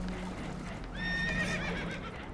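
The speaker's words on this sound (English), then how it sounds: "Horses are spooked" Spooked horses in Red Dead Redemption 2 let out a loud, shrill whinny with a wavering pitch, over a rumbling background of boat and water noise.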